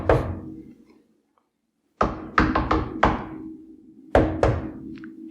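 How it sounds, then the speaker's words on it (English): Knuckles knocking on a door during a tabletop role-playing game session, an isolated first knock, then a pause and a quick run of four sharp, close knocks, with a final pair of knocks after another short gap. "No, I'll knock 3 times."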